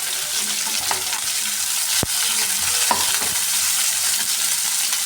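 Sliced onions and fennel seeds fry in a hot pan with an even, loud sizzle throughout, broken by a sharp click and a few soft stirring scrapes.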